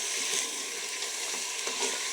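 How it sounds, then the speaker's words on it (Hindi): Dal chana fries in a pan and is stirred with a spoon, producing a continuous close sizzle with soft, irregular stirring scrapes over it, with no speech. "इतना हमने इसको यहाँ पे फ्राई करना है। इसी तरह आपने चम्मच चलाना है।"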